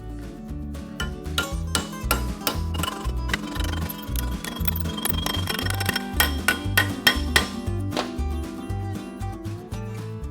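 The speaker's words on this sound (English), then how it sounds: "I'm gonna switch up to a body hammer" Rapid, steady body-hammer blows ring on the sheet metal of an old Ford Model A body brace, a continuous metallic pounding rhythm close by with no talking.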